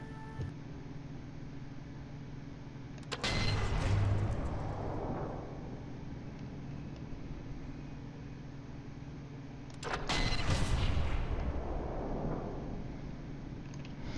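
Two loud, booming sniper-rifle shots in Sniper 4 with a long decaying rumble after each, spaced several seconds apart over a quiet background hum, with no talking.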